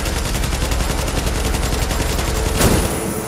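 Sustained automatic gunfire rakes a tank's weak spot in the video game The Division, a dense rapid rattle of shots that is loud and continuous throughout, with a sharper burst near the end and no voices.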